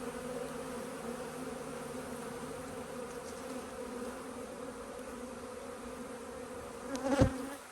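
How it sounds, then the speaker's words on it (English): Honey bees buzz around a hive as foragers return, a constant mid-level hum with a short sharp bump near the end and no talk. "the bees get a little bit noisier just because there are more and more returning from their foraging"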